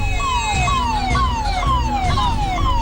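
A wailing ambulance siren, loud and steady in its rising-and-falling sweep, sounds outside a private hospital in Bhubaneswar after a deadly ICU fire, with a low rumble of traffic underneath and no voices.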